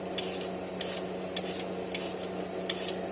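Onions cooking in a pan for a wild rice casserole, a soft steady sizzle under regular spoon stirs that clink against the pan about once every half second, close and alone.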